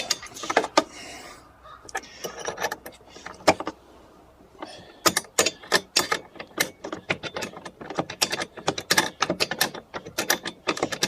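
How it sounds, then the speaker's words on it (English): A ratchet tightens bolts on the steering assembly of a Pengor Penguin, giving rapid bursts of sharp mechanical clicking, close and loud, with short pauses between runs and no speech. "how I tighten these bolts up"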